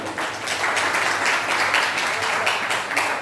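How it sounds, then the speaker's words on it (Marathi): An audience at a community committee gathering gives the poet a round of applause: a sustained, fairly loud crowd clapping that holds steady for about three seconds. "अशा या कवीसाठी एकदा जोरदार टाळ्या होऊ द्या"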